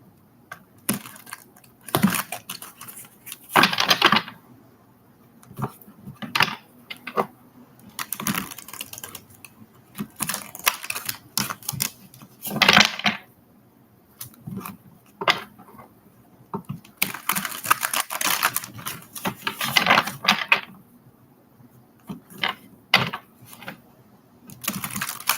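Playing cards being shuffled in bursts, crisp riffling flutters separated by brief pauses and softer handling clicks, close and fairly loud, with no talking.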